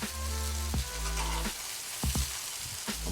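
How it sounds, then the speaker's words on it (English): Chicken pieces browning in a hot pan for smothered chicken with gravy, a loud continuous sizzle and crackle close up, with a few sharp clinks and scrapes. "Just brown it on both sides just for a few minutes."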